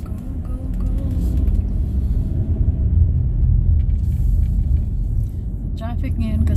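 Rush hour traffic in Doha from inside a moving car, a steady low engine and road rumble throughout, with people talking over it.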